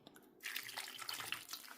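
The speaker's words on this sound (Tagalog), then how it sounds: "Lagyan lang natin ng tubig." Tap water runs into a cooking pot for lechon paksiw, beginning abruptly after a short quiet moment and then splashing steadily with bright liquid gurgles, close and fairly soft.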